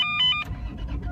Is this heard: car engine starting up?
yes